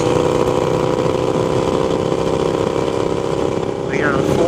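Harley-Davidson Sportster motorcycle cruising in fourth gear at 65 mph, just under 4,000 RPM, giving a steady, loud engine drone with wind rush throughout and a brief shift in tone near the end.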